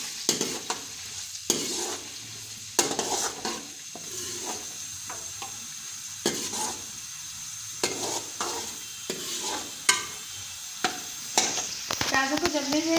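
Chopped onions fry in ghee in a kadai while a spoon stirs them in repeated scraping strokes, sharp clatters popping over a constant close sizzle. No voices.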